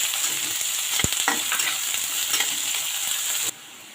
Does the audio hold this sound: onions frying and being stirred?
yes